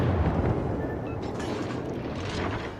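Heavy naval gunfire from the German destroyer V 25 in World of Warships, a dense rumbling barrage of booms and blasts sustained at steady loudness throughout, with no voices.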